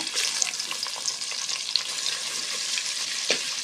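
Steady, close sizzling of chopped onions frying in a hot pan, with faint crackles and pops over a continuous hiss.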